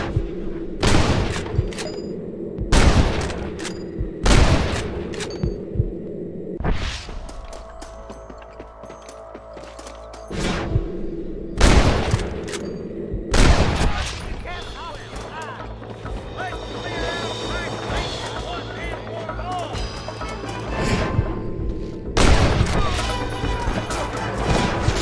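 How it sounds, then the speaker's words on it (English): Gunfire in the Red Dead Redemption video game comes as a string of loud, sharp gunshots with crashing impacts. Quieter gaps between the shots carry game ambience and voices. "Good shooting, boy."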